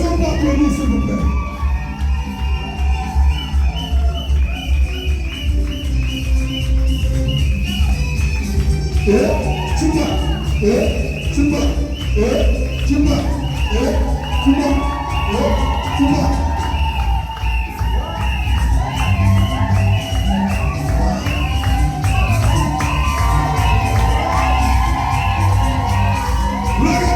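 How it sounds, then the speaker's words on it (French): Guests at a civil wedding cheering and shouting loudly and continuously as a crowd, whoops and excited voices layered throughout over a steady din. "Est-ce qu'on peut applaudir, s'il vous plaît?"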